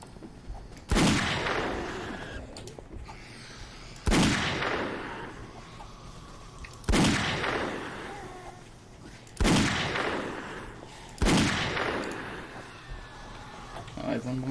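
Five loud, evenly spaced gunshot blasts ring out in 7 Days To Die as zombies are cut down, each sharp crack trailing off into a decaying echo, with speech between the shots.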